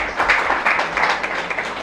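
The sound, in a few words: audience applause for Snehal Lokhande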